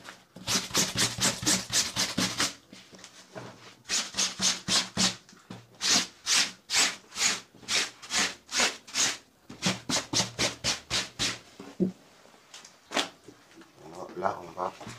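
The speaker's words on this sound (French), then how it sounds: "Pourquoi je fais ce geste avec ma brosse?" A clothes brush is stroked repeatedly over a white shirt, fast rhythmic bristle swishes in bursts with brief pauses, loud and close, without speech.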